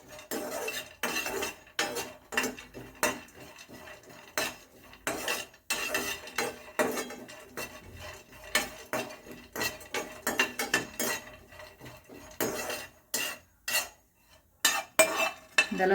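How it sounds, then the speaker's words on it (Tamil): Almonds and cashews being lightly roasted in a dry pan, heard as repeated irregular rattling scrapes and clinks of a spoon against metal, close and intermittent with short quiet gaps. "அதே மாதிரி லைட்டாக வறுத்துக்கிடுவோம்."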